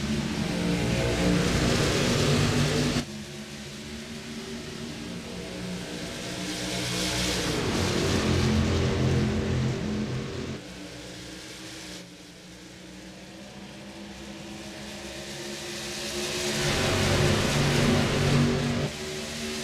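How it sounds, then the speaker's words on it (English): Race cars in the iRacing season finale at Homestead-Miami roar away at the green flag, engines swelling and fading in loud, overlapping waves as the pack accelerates past, with no voices over the engine noise. "Green flag flies and racing at Homestead"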